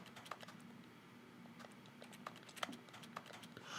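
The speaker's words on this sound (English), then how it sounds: "I was distracted by the mannequin in the microwave making the keyboard noise" Sparse keyboard typing from a mannequin in a microwave in The Stanley Parable Ultra Deluxe, irregular faint clicks over a low steady hum.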